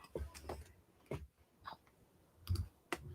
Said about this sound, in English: Oh, I can hear me typing.